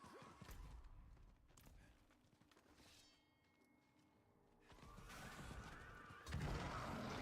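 A horse in the Diablo 4 video game gives a neigh amid game sounds, with clattering and mechanical effects around it and a louder burst near the end; someone talks briefly.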